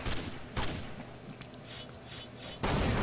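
Glock pistol shots from a Counter-Strike-style match ring out as a few sharp, loud bursts: one at the start, another shortly after, and a third near the end, with a busy game background between them.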